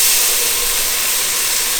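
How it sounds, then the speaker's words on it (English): Dry red wine such as Merlot or Cabernet is poured into a hot pan for Italian meatball sauce, giving a loud, steady, close sizzling hiss that holds without a break. "before it starts scorching, pour red wine in."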